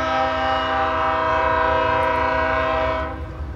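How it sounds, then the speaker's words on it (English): A train horn blares continuously and loudly close by as a freight train rolls past in Seymour, Indiana, with rumbling wheels underneath. The horn cuts off near the end and only the passing cars remain. "And this is the first train of the day."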